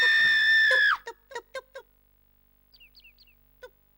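A video game character from Herdy Gerdy on PS2 screams loudly at chickens: one long, high sustained shriek, then a quick series of short clucking squawks and faint bird chirps in an otherwise quiet scene.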